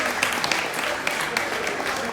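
Steady crowd applause with dense clapping throughout, fairly loud and continuous, with some scattered voices mixed in.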